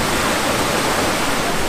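Water rushing out of a river dam bypass gate running minimum summer flow, a loud, steady broadband roar with no pauses and no voices.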